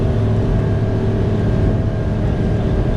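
The engine of a Fairline F Line 33 motor boat runs at speed, a loud, steady, close low-pitched drone mixed with rushing noise, continuous throughout with no talking.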